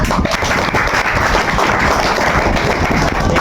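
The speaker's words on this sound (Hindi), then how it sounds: "एक बार जोरदार ताली हो जाए।" An audience claps for a guest at a talk on environmental issues and pollution, a dense, loud burst of many hands clapping steadily for a few seconds, close and unbroken.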